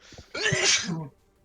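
A single loud, close sneeze bursts out after a brief breathy intake, then trails off into quiet.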